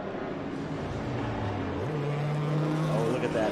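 Race cars in a vintage and Trans Am event crest the corkscrew at Laguna Seca, a steady engine drone with a rising then held pitch, mid-distance and continuous, with commentators talking over it.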